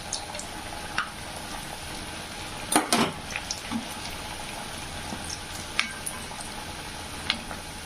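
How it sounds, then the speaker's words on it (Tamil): Potato snacks frying in hot oil over a medium flame, a soft continuous sizzle with a louder clatter near the middle and a few light taps, close and without speech. "மீடியம் ஃப்ளேமில் வச்சு நம்ம இது ஒன்றா போட்டு நம்ம பொறிச்சிக்கலாங்க"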